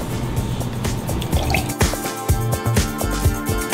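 Watermelon juice is poured for a Valentina Swizzle mezcal cocktail, giving a loud, close, gurgling stream of liquid with uneven splashes and drips.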